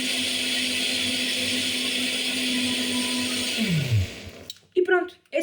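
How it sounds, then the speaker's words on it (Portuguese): A blender mixes yeast into gluten-free rice bread dough, whirring loudly and steadily, then winding down in pitch and stopping near the end, followed by brief handling noises and a voice. "vocês vão ligar o liquidificador, ok? Só para misturar o fermento na massa."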